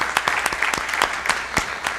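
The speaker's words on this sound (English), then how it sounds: "Yeah, applause to Isaíra" Conference attendees give a short burst of sparse applause, with distinct individual claps in an uneven patter over a couple of seconds.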